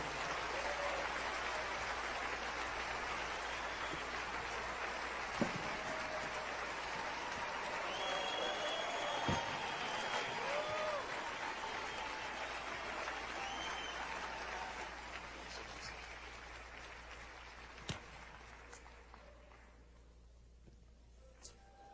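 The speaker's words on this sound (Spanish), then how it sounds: "Fuerte ese aplauso." Loud, sustained applause from a church congregation welcoming a guest speaker, a broad wash of clapping with a few sharp claps standing out, gradually thinning and fading toward the end.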